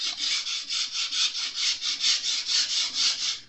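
Sandpaper rubs back and forth along the wooden fretboard of a Jazz Bass neck in about fifteen quick, even strokes. The close, raspy hiss rises and falls with each stroke and no one speaks.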